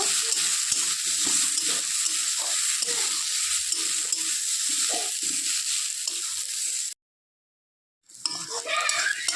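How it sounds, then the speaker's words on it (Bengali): Red lentils frying in a pan with onion, garlic and chili give a steady broadband sizzle with stirring scrapes for about seven seconds, then a sudden gap of silence before the sizzling resumes. "ডালটা একটু ভেজে নেব"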